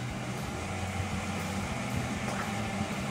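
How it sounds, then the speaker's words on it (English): Steady low hum of an infrared space heater's small blower motor running, a constant whirring drone with faint airy noise and no voices. "It's just the blower motor in there just running."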